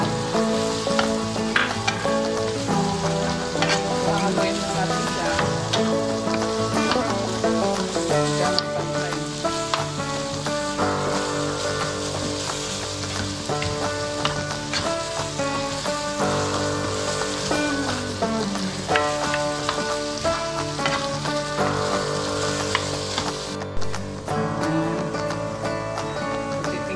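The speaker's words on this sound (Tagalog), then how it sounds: "Haluin na natin siya." Ground pork menudo-style giniling sizzles steadily in a pan while being stirred, a continuous close frying crackle with faint scraping, with a steady musical tone running underneath throughout.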